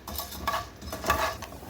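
Urad dal browning in hot oil for ridge gourd chutney is stirred with a spoon, producing soft scraping and clinking strokes over a light sizzle, close and brief, with no speech.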